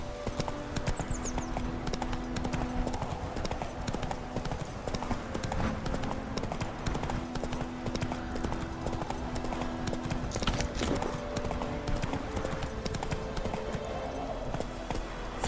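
Hoofbeats of the horse Roach galloping in the video game The Witcher 3, a fast, continuous drumming clatter that holds steady and fairly loud throughout.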